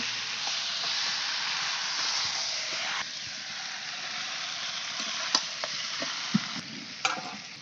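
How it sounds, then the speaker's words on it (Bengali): Chicken, including leg pieces, tipped into a spice masala and stirred as it fries, a loud continuous sizzle with scraping and a few sharp utensil knocks toward the end. "এখন চিকেনগুলো ঢেলে দিচ্ছি চিকেনটা ঢেলে দিয়ে একটু ভালো করে নাড়িয়ে নেব"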